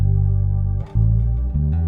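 A bass guitar with a chorus-like effect plays a major pentatonic scale: a few sustained low notes change in sequence, loud and close, with no talking.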